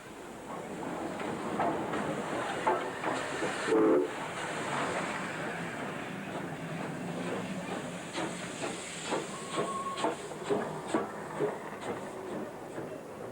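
The Flying Scotsman steam locomotive hisses steadily, with rhythmic chuffing puffs building toward the end, heard from a short distance at a rural Queensland siding.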